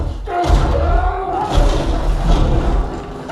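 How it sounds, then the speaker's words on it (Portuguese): Heavy thuds and slams of a body hitting a wall boom out in a movie, a deep impact followed by another around the middle, loud and reverberant, played through large subwoofers. "A primeira pancada que ele joga na parede"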